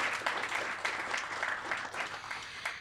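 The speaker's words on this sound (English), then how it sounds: "That is also worth a round of applause." An audience claps at a public lecture, a dense, even patter of many hands held at moderate distance, fairly quiet and steady for a few seconds.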